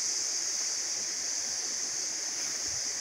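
River water flowing steadily beside a riverside durian orchard, a continuous even rush of moving water heard close and alone with no talk.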